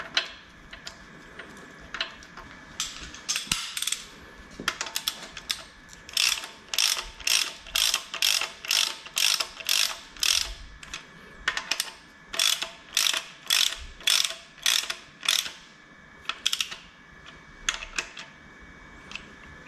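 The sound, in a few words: ratchet tightening bolt on VW AAB 2.4D engine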